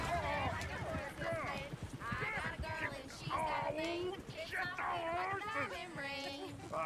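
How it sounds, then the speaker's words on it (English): Horses in Red Dead Redemption 2 clatter along at a fast pace, hooves clip-clopping close by with whinnies cutting through, while excited voices talk over the commotion throughout. "Oh, shit, the horses!"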